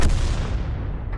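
A 105 leFH18B2 artillery gun fires in the World of Tanks video game: one loud, close booming shot that rolls into a long, rumbling tail.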